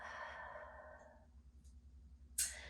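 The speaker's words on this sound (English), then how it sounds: "be sure to inhale and exhale" A long, deep exhale during a hot yoga class trails off into quiet, followed by a short sharp inhale or sniff near the end, close and soft.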